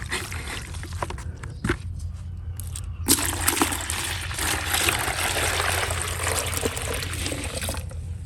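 Water pours from a gallon jug into a container, a steady trickling splash that starts soft, briefly pauses, then resumes louder and continuous for several seconds, close to the microphone.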